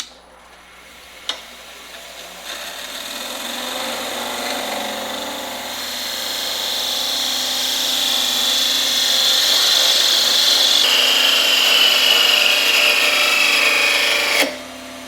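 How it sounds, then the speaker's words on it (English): A lathe parting tool cuts into a spinning turned A-10 30mm round, a close, loud hissing scrape that builds gradually into a high singing whine, then cuts off abruptly at the end. "So now it's time to part this off. I'm going to part it off right here at the 0 reference line."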